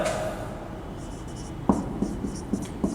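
Chalk taps and scrapes on a chemistry classroom board in a series of short, fairly close strokes, following a brief moment of faint room tone.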